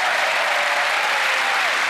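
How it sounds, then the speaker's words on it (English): An audience claps in warm, steady applause at a magic show performance, a dense close wash of hands without pause. "A nice round of applause for Jinx."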